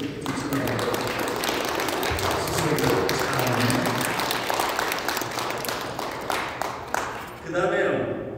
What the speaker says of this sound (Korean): 저 박수 좀 쳐주세요.